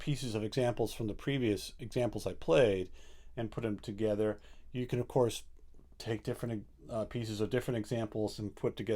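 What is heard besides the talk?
None of the usual background noises is heard.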